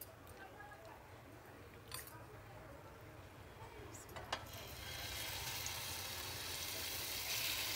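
Marinated chicken tikka pieces dropped into hot melted desi ghee and oil. A steady frying sizzle builds and grows louder and brighter over the last few seconds.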